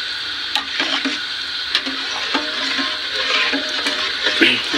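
Purple fabric dye being stirred in a pot of water, with soft sloshing and scraping over a steady hiss and a few sharper knocks against the pot, close by.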